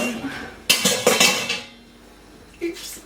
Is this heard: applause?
no